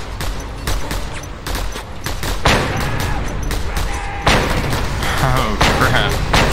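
Dense video-game combat in Just Cause 2: continuous gunfire and explosive booms, including a grenade blast, pile up in a loud chaotic fusillade with a player talking over the action.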